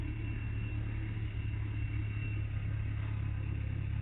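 A YuMZ-6 tractor engine idles with a newly fitted muffler, producing a steady, low, throbbing rumble with a faint clatter that continues without variation and without speech.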